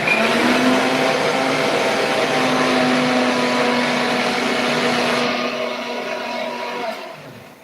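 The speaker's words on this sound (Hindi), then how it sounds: "तो चलिए मैं मसाला ग्राइंड कर लेती हूँ।" A mixer grinder grinds masala paste for a masala bhatta vegetable dish, a steady loud whirring motor running continuously before slowing and cutting off near the end, with no talk over it.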